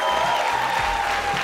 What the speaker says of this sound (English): they have lit up your screens for the past 7 weeks and deserve a massive round of applause